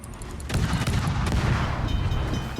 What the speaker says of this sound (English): We'll fire off a salvo his way